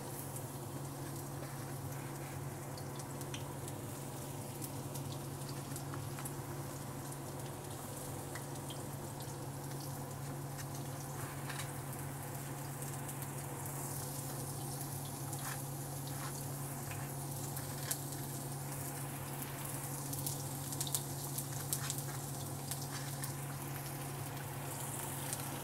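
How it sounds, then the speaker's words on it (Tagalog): Onion sautés in hot cooking oil for a ginisang upo dish with sardines, giving a steady, faint, even sizzle that continues for the whole stretch with no talking. "Ngayong mainit na mantika, ilalagay natin ang ating sibuyas."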